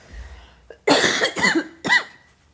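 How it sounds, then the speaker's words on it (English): Several harsh coughs in a short burst, close and loud, with a brief pause before the last one. "Time to cough."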